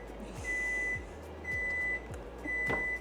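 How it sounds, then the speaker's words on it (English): Three electronic beeps from a microwave oven, each a steady high tone lasting about half a second, evenly spaced with short pauses between them. "If you hear my microwave,"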